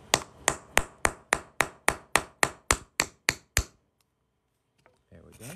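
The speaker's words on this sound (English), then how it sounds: "this is a plastic hammer, and we're just gonna drive that punch through here" A plastic hammer strikes a metal punch through a coin about thirteen times in a steady rhythm, sharp close taps, then quiet and a brief rustle.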